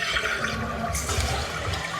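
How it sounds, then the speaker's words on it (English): Water drains and rushes out of a toilet tank while the fill level is being adjusted, a steady close gurgling flow with no pauses. "Okay, so we're gonna let just a little bit of water out."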